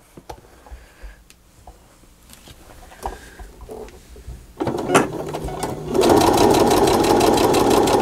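A sewing machine stitches a fabric pocket: a few soft clicks and handling noises first, then the motor starts with a rapid, steady, loud needle chatter that runs continuously to the end.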